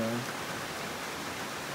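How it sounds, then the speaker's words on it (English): Steady rain falls on a backpacking campsite in the Smoky Mountains, a constant soft broadband patter that starts right away after a brief low thump and continues evenly throughout. "the rain came in"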